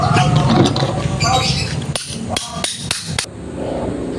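Sharp metal hammer strikes ring out in a quick series of about five blows, loud and close, driving a part into a Euro Griffin 180i motorcycle rear shock during a repack, after a stretch of background chatter.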